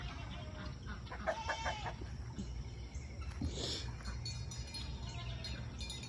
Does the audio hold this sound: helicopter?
no